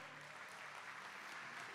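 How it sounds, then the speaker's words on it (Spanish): An audience at a business presentation gives steady, continuous applause, a dense, even wash of many hands clapping at a distance, with no voices standing out. "un aplauso a la persona que te ha invitado"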